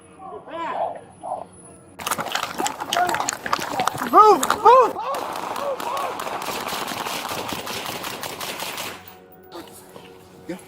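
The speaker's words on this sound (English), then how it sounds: "So far, shots fired." During a police standoff at a San Diego school, bursts of gunfire sound as a rapid series of sharp cracks from a replica BB gun. They come over a stretch of crackling noise, and radio voices are heard before and between them.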